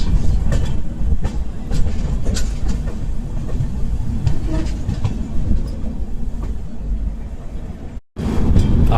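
Swarna Shatabdi Express running on rails between New Delhi and Lucknow, a loud, steady rumble with rhythmic clicks of wheels over rail joints heard from inside the train, briefly cut near the end.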